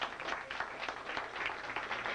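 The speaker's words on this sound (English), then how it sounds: "Give him a round of applause one more time." An audience claps together at a talk, a brief, even patter of many hands, moderately loud and fairly distant, with no speech over it.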